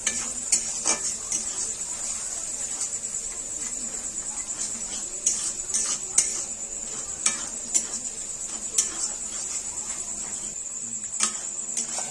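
An egg fries in a pan for egg chicken chowmein, a faint steady sizzle under periodic utensil clinks and scrapes against the pan, with a high insect-like whine running throughout and no talk.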